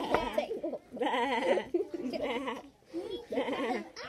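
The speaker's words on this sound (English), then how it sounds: "Abby the sheep, where are you? Where's the sheep?" Sheep bleating nearby in four wavering, drawn-out calls with short pauses between them, fairly close and moderately loud.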